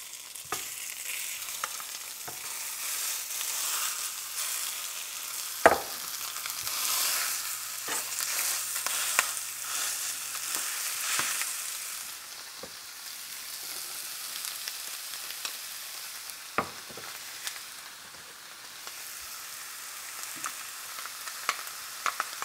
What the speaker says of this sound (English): we're going to take this over to the skillet, and we're going to cook it for about 10 or 12 minutes until the sausage is almost completely done